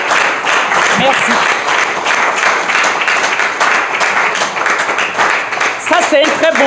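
A large audience at an official event applauds continuously and loudly, a dense wash of clapping that holds steady throughout, with a few voices calling out near the end.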